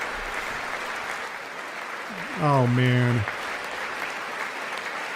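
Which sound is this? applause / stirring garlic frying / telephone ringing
applause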